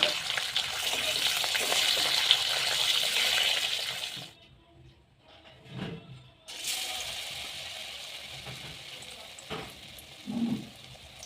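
Potatoes fry in a pan with a steady, fairly loud sizzle for about four seconds, then it drops away briefly with a few soft clatters before a quieter sizzle resumes.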